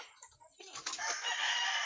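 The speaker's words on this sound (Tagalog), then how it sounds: "May mga manok, yun yung mga inahin." Hens cluck and squawk close by, a short burst of busy bird calls that builds into a continuous noisy chatter.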